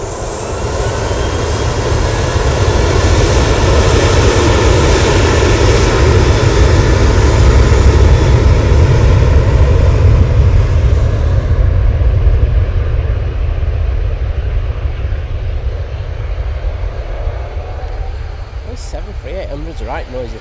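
Aircraft at Manchester Airport make a loud, sustained engine roar with a deep rumbling drone that stays heavy for a long stretch and then slowly thins and fades as the plane moves away.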